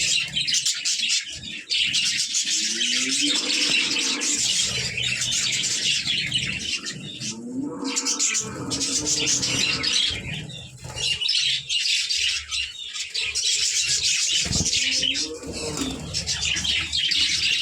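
Budgerigars kept in clay nesting pots chirp and twitter in a dense, continuous chorus, with many overlapping bright calls and occasional squawks filling the whole stretch without pause.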